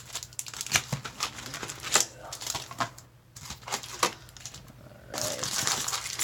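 A Magic: The Gathering Guilds of Ravnica booster pack being torn open, with steady crinkling and crackling of foil wrapper close up, bursts of ripping throughout and a louder rustle near the end.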